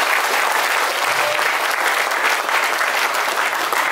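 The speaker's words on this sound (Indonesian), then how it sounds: "silakan tepuk tangan Bapak Ibu" An indoor audience claps steadily for a speaker at a testimonial gathering, a dense, even roar of applause that holds throughout.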